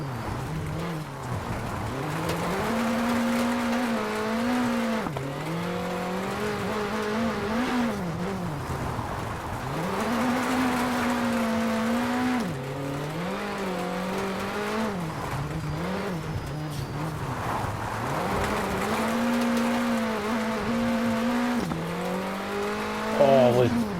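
Rally car in the WRC 8 video game, an engine whine rising through the gears and dropping repeatedly over a long run, close and continuous, with a voice talking over parts of it.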